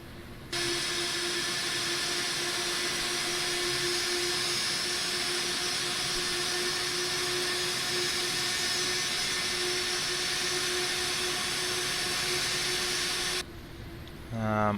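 A Captain Sim 767-300ER in the Prepar3D flight simulator taxis with a steady, loud jet engine whine and roar that holds unbroken for many seconds before briefly dropping away.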